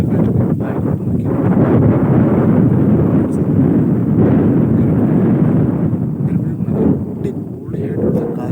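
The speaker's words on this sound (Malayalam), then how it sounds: "ഭയങ്കര കാറ്റാണ്, അടിപൊളി കാറ്റ്." Strong wind buffets the microphone at a hilltop viewpoint at Ilaveezhapoonjira, a loud continuous roaring rumble that swells and eases slightly throughout with no clear speech.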